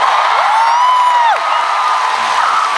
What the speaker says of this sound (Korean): 그렇다면 박수 한 번 보내주십시오